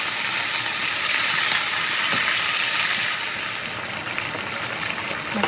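Beef and vegetables sizzle steadily in hot oil in a pan while cooking Chinese-style beef with peppers and oyster sauce, a loud continuous crackling hiss that eases slightly toward the end.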